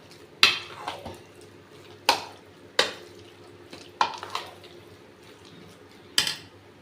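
A spoon knocks against a metal vessel while hot water is added and sago batter is mixed with cumin and lemon, a handful of sharp clinks spaced irregularly with faint wet stirring between them.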